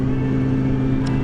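A car engine idles nearby in a city street, a steady close low hum with even tone throughout, no voices over it.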